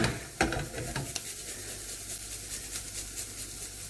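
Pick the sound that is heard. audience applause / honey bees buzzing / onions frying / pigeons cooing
onions frying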